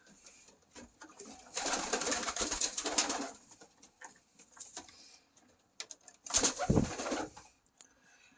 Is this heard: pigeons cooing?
yes